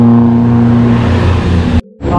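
A car engine labouring up the steep Tanjakan Emen climb in Subang, a loud, close, sustained drone with a steady low pitch that cuts off abruptly near the end before resuming.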